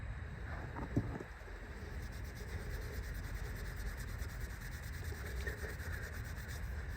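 A Scotch pad rubs down the rear brake hub of a 2004 Mini in a continuous, close, even scrubbing hiss that carries on without pause, with no talking.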